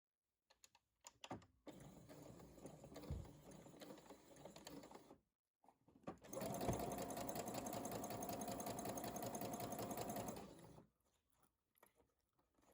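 A sewing machine stitches fabric about 1 mm from the edge while a beginner's summer dress is being made, giving a close, steady mechanical whir in two long runs separated by a brief pause.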